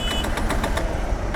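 A Honda X Blade 160 ABS motorcycle engine sputtering and dying as its petrol runs dry, a steady rough rumble with rhythmic knocking pulses, close and fairly loud, with no talk.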